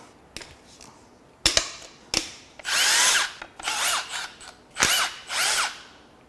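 A power tool strips timing components from a Toyota 3RZ engine: sharp clicks and quick taps, then several loud, close bursts of whirring impact-driver spinning, each a second or less, separated by brief pauses.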